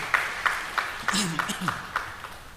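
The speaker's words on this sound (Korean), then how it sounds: "우리 잘하라고 박수 한번 쳐주시죠" Church congregation clapping for the choir in a steady, evenly spaced rhythm, a handful of sharp claps about a third of a second apart, with a voice speaking over them partway through.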